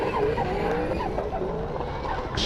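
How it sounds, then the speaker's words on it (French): A drift car with a 1UZ engine slides through puddles on a wet track, with a sustained engine roar and tire hiss layered with splashing, loud and continuous throughout. "Oh là là là, on traverse vraiment les flaques de plus belle ici pour Axel François"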